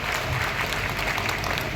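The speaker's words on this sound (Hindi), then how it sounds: "मैं फिर आप लोगों से निवेदन करता हूं, जोरदार तालियों के साथ हार्दिक अभिनंदन वंदन करें।" Dense, continuous clapping from a crowd at a public gathering addressed by the Madhya Pradesh Chief Minister, fairly loud and even throughout the short stretch with no voices on top.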